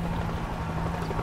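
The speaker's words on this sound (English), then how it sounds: "Another chopper! Could be an evac point!" A helicopter flies overhead in the video game World War Z, a steady droning rotor hum with a low tonal buzz, moderately loud and unbroken.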